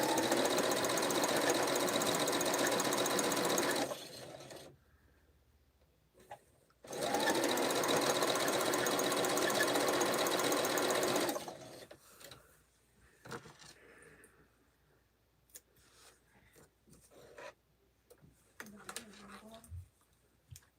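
A long arm sewing machine runs in two sustained bursts of steady, loud stitching as it crosses bulky, intersecting seams, then stops and leaves quiet clicks and handling noises.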